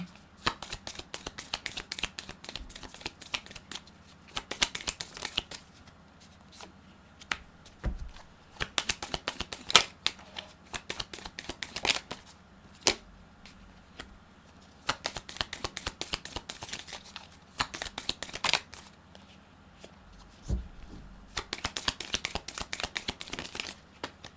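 Tarot cards shuffled and laid out up close in steady bursts of riffling, flicking and tapping, with brief quieter gaps between handfuls and no voice over it.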